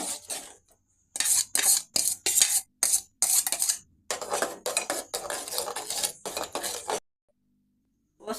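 A spoon scrapes and clinks repeatedly against a bowl while homemade soap mixture with potato and multani mitti is stirred, the strokes coming in quick close bursts, then falling silent.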